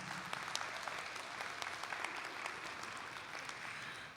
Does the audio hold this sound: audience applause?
yes